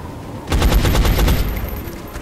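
A burst of rapid gunfire from the XCOM video game, a dense rattling volley starting about half a second in and holding loud for roughly a second before tailing off.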